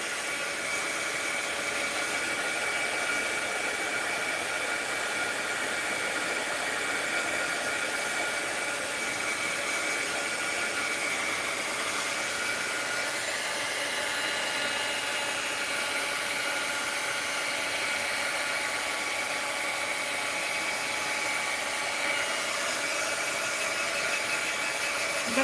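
A hair dryer running steadily over an art journal page, a continuous even whooshing drone held at constant level for the whole stretch, close, with no talking.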